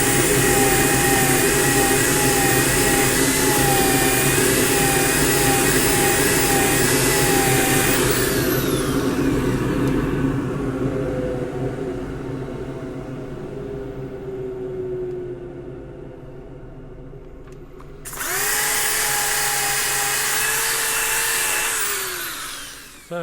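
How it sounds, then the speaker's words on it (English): A loud, whining rotary sander at 240 grit runs steadily on a wide-rimmed wooden bowl, cuts off and winds down into quiet, then starts up again near the end. "finished off with the rotary sander at 240 grit"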